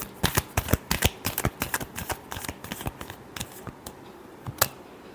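Tarot cards shuffled by hand, a rapid run of crisp riffling flicks and snaps, close and dry, thinning to a few scattered taps near the end.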